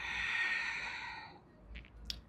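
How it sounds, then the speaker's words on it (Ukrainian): Steady breathing during a yoga breathing exercise: a long sustained exhale, then quieter short breaths and a brief sniff near the end, close and soft with no talking. "Вдих. І видих. Вдих. І видих."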